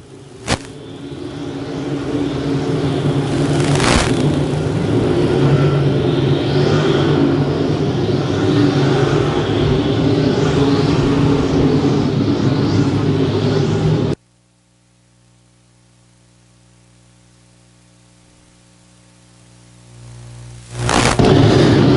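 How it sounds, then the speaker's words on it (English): USRA B-Mod race cars roar around the I-35 Speedway during an A-Main, a loud, continuous engine drone for about fourteen seconds before dropping to a low rumble, then surging loud again at the end. "Here comes Ryan Gilmore powering down the inside of the 20X of Steve Stormer."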